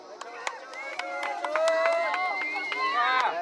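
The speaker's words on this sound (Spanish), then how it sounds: "La porra que se escucha" A crowd at a local amateur football final cheers and claps for the champion team, Real Sociedad, as they collect their trophy. Sharp, scattered claps ring out over voices and shouts at moderate loudness throughout.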